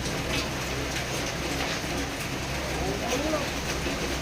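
Continuous rain hisses and patters close by, with voices talking faintly underneath the steady downpour.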